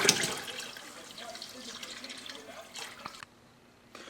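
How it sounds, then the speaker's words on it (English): A gallon of distilled water poured into a homebrewing beer pot, an uneven splashing gush that trails off into drips and then quiet, with a voice speaking over it. "we're adding the gallon of distilled water"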